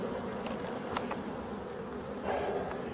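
Black forest honeybees in Brittany hum busily at a Warré hive entrance, a continuous close buzzing with individual bees swelling past now and then, no voices heard.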